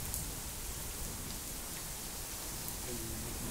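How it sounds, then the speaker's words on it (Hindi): Steady rain falling during a rural downpour, a dense broadband hiss of drops that stays even and close throughout, with a faint voice or animal sound briefly near the end. "सही बारिश हो गई"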